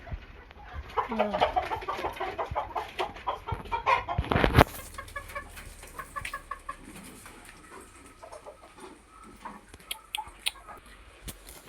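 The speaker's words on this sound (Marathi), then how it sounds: "इथे बघू शकता कोंबडी" Chickens cluck and chatter nearby in scattered bursts, joined by a sudden sharp clatter midway, then quieter clucking continues.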